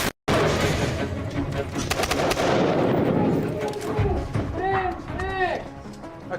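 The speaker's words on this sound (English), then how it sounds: "Once inside the building, the team then use stun grenades to disorientate whoever is inside." During a counter-terrorist training building entry, loud stun grenade blasts and gunfire-like bangs echo indoors, with shouting voices over the din.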